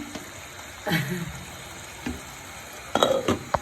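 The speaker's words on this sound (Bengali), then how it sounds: "সমস্ত মশলা কষানো হয়ে গেছে উপর দিকে কিন্তু তেল বেশি উঠেছে দেখুন" Spices for a chicken curry fry in oil in a pan with faint sizzling, broken by a few stirring scrapes and clatters of a utensil.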